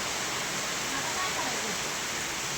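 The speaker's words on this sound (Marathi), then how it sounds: "आणि बघा एक कसला छान पाऊस यायला लागला आमच्याकडे" Heavy rain pours down in a steady, dense hiss, constant and fairly close, with no breaks and no other sounds over it.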